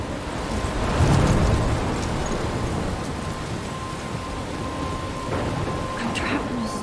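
Thunderstorm in the video game Life is Strange: steady heavy rain hiss throughout with a deep rumble of thunder swelling near the start, plus faint distant cracks later, no talk over it.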